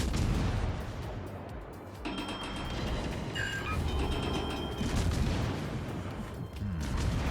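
Dutch destroyer Tromp firing its guns in World of Warships, heavy booming salvos and blasts repeating over a dense, continuous rumble of battle noise, loud throughout with no talk.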